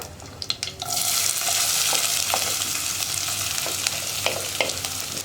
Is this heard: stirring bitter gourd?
yes